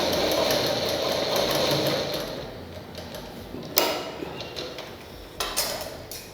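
Sewing machine stitching a fabric patch during mending, running in a fast continuous whir for a couple of seconds, then slowing to quieter mechanical ticking with a few sharp clicks close by.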